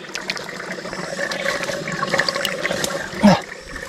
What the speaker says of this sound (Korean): 딴 걸 여기 샘물에 씻어서 먹도록 하겠습니다